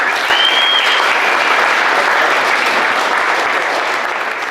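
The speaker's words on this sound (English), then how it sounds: "So give him a round of applause." A crowd gives a loud, continuous round of applause, with dense, even clapping that holds steady the whole time with no pause.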